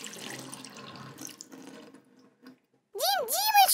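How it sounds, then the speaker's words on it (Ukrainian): A tap left open in a cartoon home runs with a steady splashing hiss that fades and stops, followed by a voice speaking. "Це я забув кран закрити, коли воду для квітів набирав"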